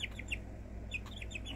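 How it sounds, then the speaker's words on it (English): A small chicken sitting on a person's lap makes soft, quiet chirps and clucks in several short, high bursts over a low indoor hum. "We having coffee with the little chicken on our lap."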